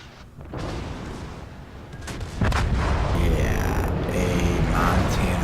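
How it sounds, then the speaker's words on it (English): Heavy naval gunfire from a low-health Baltimore cruiser in World of Warships, with a loud broadside boom near the middle followed by sustained rumbling and mechanical clatter. "the Baltimore, who's already low health, passes me and gives a big fat broadside"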